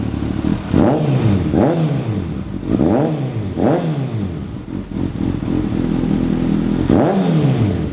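An inline-four motorcycle engine revs up sharply several times, each burst rising and falling back to idle, loud and close, with a longer pause before the last rev.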